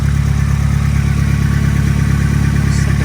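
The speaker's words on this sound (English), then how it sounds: "Engine running." A Nissan 180SX engine idling steadily up close, an even low rumble with a fast regular pulse, loud and uninterrupted.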